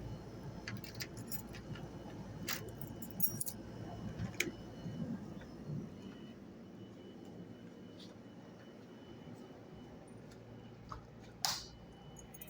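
Keys jangle and click faintly while a door is being locked at home, light metallic taps scattered over a quiet background hum with a couple of sharper clicks.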